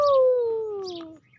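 A person's voice imitates a peahen call: one drawn-out, descending tonal cry with strong harmonics, fairly loud and close, lasting just over a second before fading.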